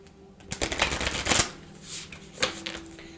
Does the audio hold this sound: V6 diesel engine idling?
no